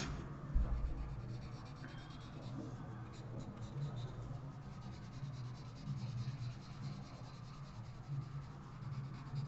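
A pencil shades and blends on paper, a soft continuous scratchy rubbing heard close and faint, with quiet background hum.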